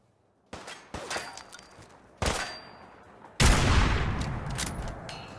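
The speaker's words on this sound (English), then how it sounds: "That's not a missile launcher, it's just a machine gun." Machine gun fire in Fallout 4 rings out in three sharp loud bursts, each followed by a fading tail, with the last burst longest and heaviest.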